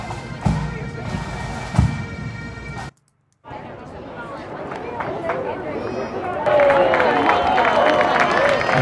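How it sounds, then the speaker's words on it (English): Distant crowd ambience from a sound effects library, a murmuring mass of voices with scattered cheers. It cuts to brief silence, then resumes as a spacious, reverberant crowd that grows louder and brighter near the end. "Nice distant crowd."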